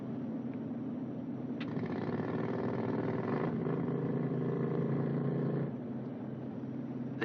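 A small auxiliary power unit engine, the putt-putt on a B-29 bomber, sputtering to life in an old training film: a rough mid-pitched motor chug rising after a click, then droning steadily before easing off.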